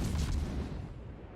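Long-range naval gunfire aimed at a Musashi battleship in World of Warships, a deep rumbling artillery boom that swells and rolls off over about a second, dense low-end thunder with no talk.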